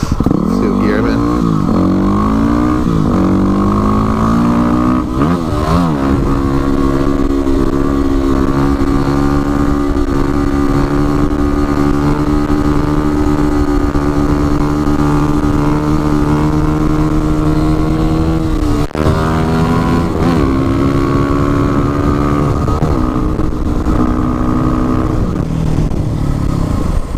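Yamaha WR250R supermoto motorcycle engine droning loudly and steadily throughout, with rising and falling revs as it is ridden on a wheelie, close to the rider; a voice talks over it.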